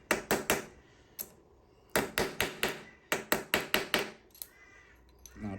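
Hammer blows drive a part into the front fork of a 2012 Triumph Speedmaster 865 motorcycle during repair, sharp metallic knocks in quick bursts of three to six strikes with short pauses, close and loud, no talking.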